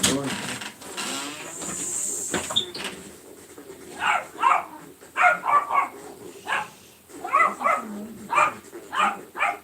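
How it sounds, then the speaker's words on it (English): A dog in the neighborhood barks in a rapid series of sharp, fairly loud bursts that come in uneven clusters after a few quieter seconds of background noise. "dog in the neighborhood."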